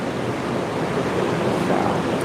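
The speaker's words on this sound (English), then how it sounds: "this is an evaporative cooler, and it keeps the barn nice and comfortable for the horses during the day" An evaporative cooler runs in a horse barn, giving off a loud, steady whooshing roar of moving air and water that holds constant throughout, with no talking.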